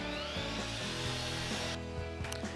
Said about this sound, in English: I'll use the miter saw to just chop them to length